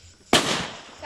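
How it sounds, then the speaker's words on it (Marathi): A single sharp Diwali firecracker bang bursts at a family farmhouse gathering, followed by a crackling, fizzing tail that fades over about a second, close and loud. "आणि ते दिवाळीचे फटाके आणलेत."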